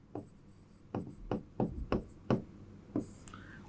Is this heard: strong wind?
no